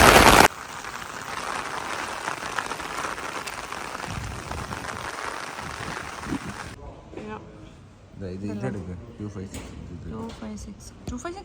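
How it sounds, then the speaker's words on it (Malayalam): Rain falls outdoors in Germany as a steady hiss of drops on surfaces through the first part, then fades under close conversation as people talk over it. "നല്ല സൂപ്പറായിട്ട് മഴയുണ്ട്"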